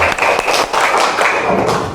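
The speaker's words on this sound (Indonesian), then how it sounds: "Ya, tepuk tangan" Schoolchildren in an elementary-school Islamic religion class clap their hands together, a dense, steady run of close claps lasting the whole moment with no talking over it.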